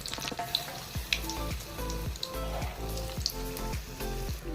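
Battered potato pieces fry in hot oil in a pan, crackling and sizzling steadily with repeated sharp pops and bubbling bursts, close and moderately loud, with no speech.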